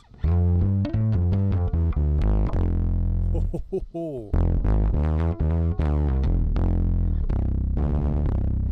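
A bass guitar played through a compressor plays a choppy run of notes, loud and evenly squashed in level, with a brief pause in the middle before the plucking resumes.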